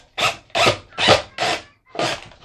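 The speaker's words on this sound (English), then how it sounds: "shoot you two screws in the bottom just like this" A power drill drives screws into the bottom of a wooden birdhouse in five close, loud bursts of whirring and grinding, each about a third of a second long and separated by short pauses.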